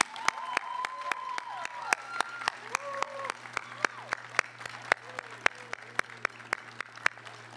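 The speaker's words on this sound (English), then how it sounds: "Please join me in a round of applause." Applause at a 2021 academy graduation ceremony, scattered distinct claps from a sparse crowd, with a voice speaking faintly underneath throughout.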